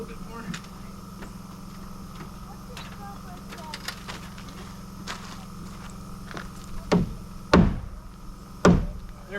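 A wooden rafter is knocked into place on an off-grid house addition: light taps early on, then three heavy, close thumping blows toward the end over a low steady hum, with faint talk nearby.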